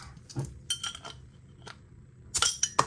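A bottle of Black Sheep Brewery milk stout, 4.4%, being opened: close, scattered clinks and taps of glass and metal, then a brighter burst of crisp clicks near the end.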